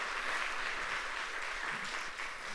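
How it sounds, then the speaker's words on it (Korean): A church congregation applauds in a steady, sustained wash of clapping that fills the room at moderate volume, with no voices standing out. "감사의 박수 하겠습니다"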